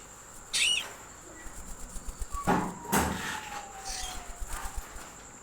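A hand-tame pet cockatiel gives a few short calls and chirps indoors, faint and intermittent, among soft handling noises and brief thumps.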